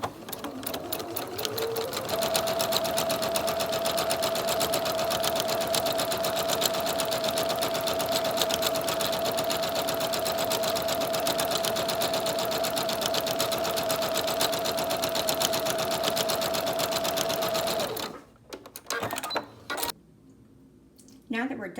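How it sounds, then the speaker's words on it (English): A sewing machine runs steadily for about eighteen seconds, stitching the filter pocket of a 3-D singer's face mask, then stops and is followed by brief handling noises. "Now that we're done sewing the filter pocket"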